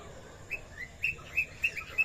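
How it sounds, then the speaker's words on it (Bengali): A decorative bird light on a rooftop gives a series of short, bright electronic bird chirps, repeating at irregular intervals over a quiet background hum. "আর দেখো পাখির লাইটটা জ্বালিয়ে দিয়েছি, আর কি সুন্দর ডাকছে দেখো।"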